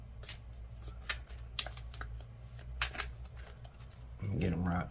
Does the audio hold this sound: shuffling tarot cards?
yes